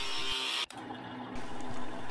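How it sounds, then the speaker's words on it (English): Drill bit boring through aluminum, a close steady whirring grind that briefly cuts out and then resumes. "aluminum drill, super easy"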